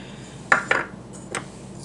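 Seasonings being stirred into a marinade of oil, chili powder, cumin and salt in a bowl, a few sharp utensil clinks against the bowl, two close together and one more after a short pause.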